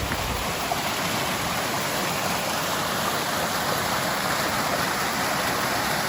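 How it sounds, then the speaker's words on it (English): A small stream flowing at a water crossing beside a creekside campsite, a steady broadband rush of moving water that stays close and constant throughout with no voices. "It's got a cool little water crossing."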